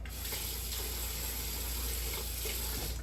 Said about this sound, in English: We'll add just a touch of water.